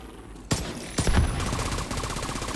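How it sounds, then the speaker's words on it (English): Automatic weapon fire in the shooter game The Division 2 sounds in rapid bursts after a short quiet, with sharp nearby shots followed by a fast rattling string of rounds. "Even though I'm firing downrange"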